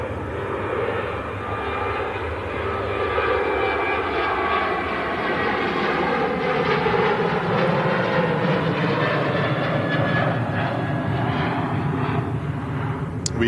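Ryanair and Gulf Air airliners moving on the ground at an airport, a steady loud jet engine roar sustained throughout with broadband rumble.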